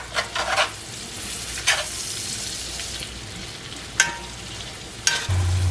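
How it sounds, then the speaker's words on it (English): Chopped onions fry in a pan on the way to caramelizing, a steady close sizzle broken by several sharp stirring scrapes, with no voices. "I'm going to fry these up till they're caramelized"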